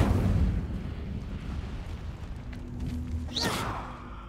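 The Incendio fire spell cast in Hogwarts Legacy on PS5, a low rumbling burst of flame that opens loud and decays, then a brief sharp whooshing flare near the end.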